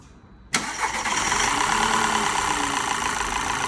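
A Volkswagen Passat engine cranks and catches with a sudden burst, then settles into a steady, even idle rumble with no stalling or shaking that continues to the end.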